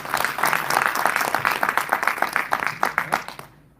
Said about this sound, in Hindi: मैं आपके लिए ताली बजाना चाहता हूँ।